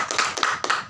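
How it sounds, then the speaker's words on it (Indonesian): Short burst of applause from a small group in a meeting room, a few quick claps in uneven rhythm, close and fairly loud, lasting under a second. "tepuk tangan dulu untuk Mas Lis."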